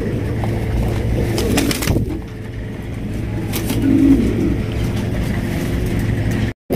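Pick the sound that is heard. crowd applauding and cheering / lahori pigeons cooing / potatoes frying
lahori pigeons cooing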